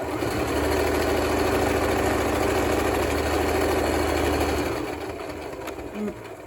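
A sewing machine stitches triangles of festive fabric for a banner, a steady close mechanical hum and rattle that runs continuously before slowing and stopping near the end.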